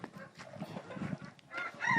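Cochin chickens cluck and fuss in a backyard coop, a rooster among them, the calls overlapping at close range with a louder burst of squawking toward the end.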